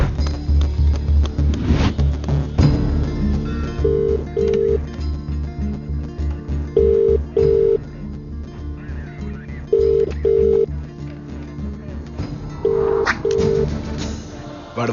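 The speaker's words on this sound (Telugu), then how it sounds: "ఓ ఫోన్ చేసుకోవచ్చా?" A telephone rings in a Telugu film scene, its paired ring bursts repeating about every three seconds over a low, steady background hum and music bed.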